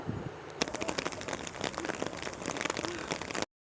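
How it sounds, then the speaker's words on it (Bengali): Heavy rain falls in Kashmir, a dense, even patter of drops with scattered sharper hits, steady and fairly quiet throughout before cutting off. "তোমাদের একটা ছোট্ট ক্লিপ দেব আমি বৃষ্টির যে আওয়াজটা, সেটা তোমরা তাহলে বুঝতে পারবে কতটা হেভি বৃষ্টি হচ্ছিল"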